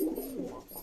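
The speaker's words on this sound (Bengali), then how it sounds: "এ দুটো খুব সুন্দর পায়রা" Madrasi show pigeons in a breeding pair setup cooing, a soft, close, low throaty coo rolling over under a second, fairly quiet and alone.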